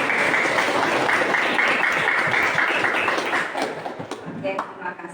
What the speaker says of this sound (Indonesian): kasih aplaus buat Nadia.